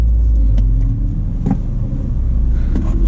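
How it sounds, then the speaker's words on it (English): A stage 2 tuned BMW M240i rumbling nearby, a deep, loud exhaust drone holding steady with a few brief rises in revs, no talk. "if you hear a different exhaust note, it's coming from my friend Ian's M240i right there"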